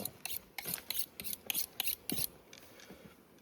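A knife is honed on a steel with a quick series of about eight bright metallic scraping strokes in a steady rhythm, soft and close, then a fading pause.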